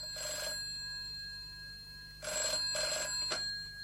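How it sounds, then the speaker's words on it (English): A telephone bell rings in short bursts, one ring, a pause, then two rings close together, clear and alone against a faint hum. "And then, at 3, the phone rang."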